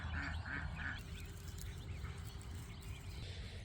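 Ducks quack a few times at the start, close and distinct, over steady outdoor background noise; dogs are nearby on the walk down to the water.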